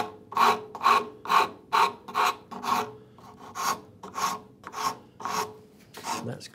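Steel rasp filing and rounding over the edge of a wooden saw handle, about a dozen steady rhythmic push strokes, each a close, bright scraping rasp separated by short pauses.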